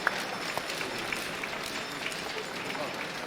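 A crowd at a men's curling world championship match between Japan and Sweden applauds steadily in a large arena, the clapping soft and distant beneath a commentator's voice.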